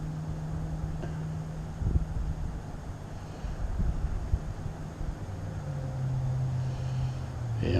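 Wind buffets the microphone of a flying drone on a windy day, a steady broadband rush with low rumbling gusts throughout, no voices.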